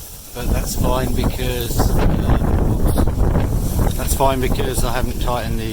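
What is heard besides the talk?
strong wind blowing around outdoor e-bike wind turbine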